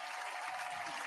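An audience claps steadily through a short stretch at a live music event, a dense, even wash of applause without pauses and no speech above it.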